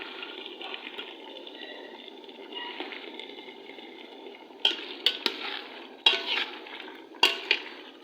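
Potatoes and peas get mixed in a pan, first a soft, steady wet scraping, then several sharp metallic knocks of the spoon against the pan toward the end, close by and without talk.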